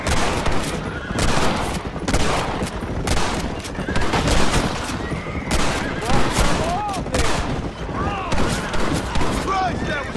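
Dense, chaotic gunfire in the Red Dead Redemption video game, rapid overlapping shots from several weapons cracking back and forth at close range through the whole stretch, with voices shouting underneath.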